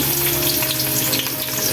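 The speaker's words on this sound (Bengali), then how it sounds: "আমি বেশ কিছু কাঁচা পেঁয়াজ কুচি দিয়ে দিচ্ছি" Chopped raw onions hit hot oil with fried spices for chicken biryani, producing a loud, dense, continuous sizzle up close with no speech.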